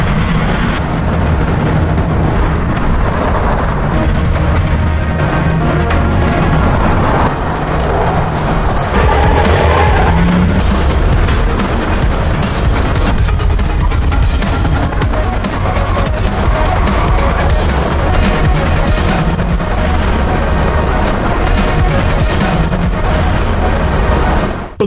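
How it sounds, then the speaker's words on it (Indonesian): A car roars along in a horror-film chase, with a loud, continuous engine drone and road rumble that swells and dips slightly over the whole stretch. "sang psikopat menggunakan mobil Joseph untuk mengejar Diana"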